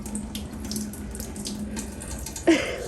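Water runs steadily from a tap in a continuous hissing stream, with a brief splash near the end. No one speaks.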